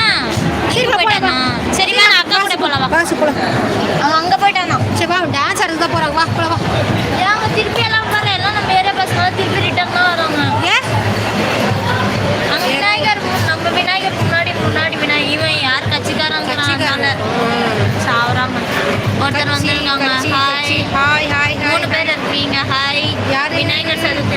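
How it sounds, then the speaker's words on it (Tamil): Dense festival crowd in a Tamil village setting, continuous loud babble of many voices and shouts close around, with people talking throughout. "ஒரே கூட்டமா இருக்கு திருவிழா கோலமாக இருக்கு"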